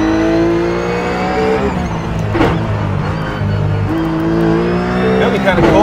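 RUF race car engine in iRacing at Daytona or California, a steady high-revving drone with harmonic whine and gear shifts, loud and close, with brief tire noise midway.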